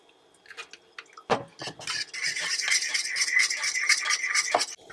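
Water splashes and sizzles into a hot pan of broccoli after a few clinks, in a camper van kitchen, the hiss building and holding steady before cutting off.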